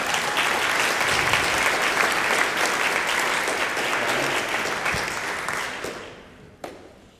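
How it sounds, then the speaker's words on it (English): Audience applause at a high school spring orchestra concert, a dense, even wash of clapping that holds steady and then tapers off near the end with a final lone clap. "let's give him a round of applause"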